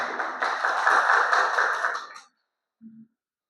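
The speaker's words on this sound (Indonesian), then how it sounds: "tepuk tangan untuk kedua teman kalian" Students in a classroom clap for two classmates, a brief burst of many hands lasting about two seconds before stopping abruptly, followed by a faint short tap.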